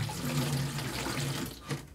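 Nematode solution mixed with water is poured into a watering can, giving a soft, steady trickling splash, quiet and close, with no talk over it.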